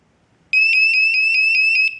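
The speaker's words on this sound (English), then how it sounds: "this is the fire alarm tone" After a brief silence, a loud, high-pitched fire alarm tone from a BIBENE WiFi home security system beeps in a fast, steady pulsing pattern of about seven quick tones, then stops.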